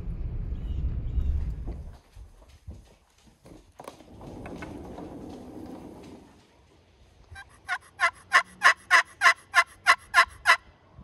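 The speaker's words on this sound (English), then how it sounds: "there's a bunch of turkeys down here" Wild turkeys, big toms near a house yard, gobbling in a rapid rhythmic burst of about a dozen loud, close pulses, following quieter rustling and low rumble.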